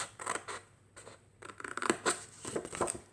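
Scissors snip through paper to cut out a rectangle, close, quiet clusters of crisp cuts with short pauses between strokes.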